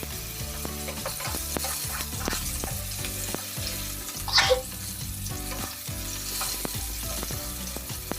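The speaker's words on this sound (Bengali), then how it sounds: "সিমটা আমার ভাজা হয়ে গেছে।" Flat beans (sim) sizzle in hot oil in a pan for a Bengali shukto, with a steady frying hiss broken by frequent stirring clinks and scrapes throughout, close and fairly loud with no talking.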